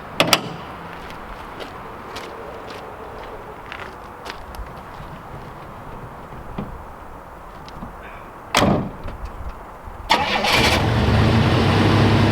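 A 1987 Oldsmobile Cutlass, long abandoned, cranks and fires up near the end, its engine settling into a steady close idle after a door thunk and some handling noises earlier.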